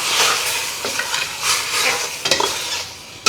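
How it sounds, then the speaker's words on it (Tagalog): Squid adobo sizzling in a frying pan while being stirred, with steady frying crackle and a few sharper scrapes and clicks of the utensil against the pan. "Yan, ihalo-haluin lang natin siya."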